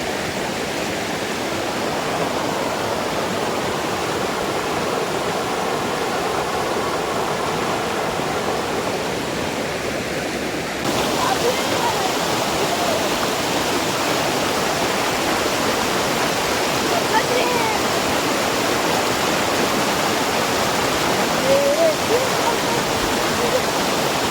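Steady rushing water flows loudly and continuously, a broad wash of sound like a fast river close by where two rivers meet in the Konkan region of India, with no talking.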